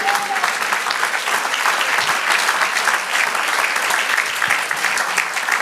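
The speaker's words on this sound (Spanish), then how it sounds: "Otro aplauso al Señor" A church congregation applauds during a sermon, a dense, continuous burst of clapping from many hands filling the room at steady loudness, with a faint voice briefly audible at the start.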